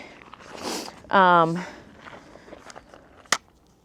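A 9mm pistol-caliber carbine stock folds over with a brief rustle, then a sharp metallic click as it locks, close and fairly quiet.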